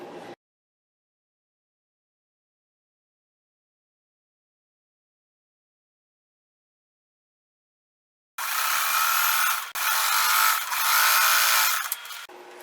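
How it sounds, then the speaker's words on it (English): A household sewing machine running in loud, steady bursts, stitching quilted tote bag pieces together after a long silence. "I'm just going to sew these together."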